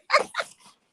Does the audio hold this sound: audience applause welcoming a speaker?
no